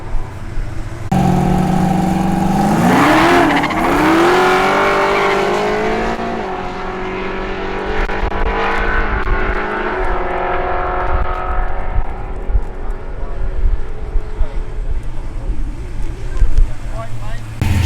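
Modified muscle cars race at the Coota 400 airstrip drags in Cootamundra, a loud engine roar rising in pitch as a car accelerates away, then fading into rumbling crowd and wind noise with more engine sound near the end.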